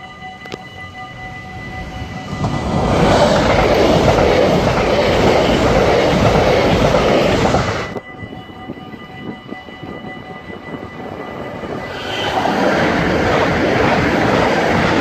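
An SNG train approaching and passing, a loud rushing roar with rail clatter that builds over a couple of seconds, holds, cuts off briefly, then swells again as more carriages go by close to the listener.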